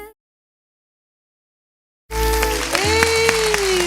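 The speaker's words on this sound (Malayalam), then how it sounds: "നല്ലൊരു കൈയടി" Studio audience applause on a Malayalam TV entertainment show, bursting in after two seconds of silence and holding as steady, dense clapping with a tonal musical element running underneath.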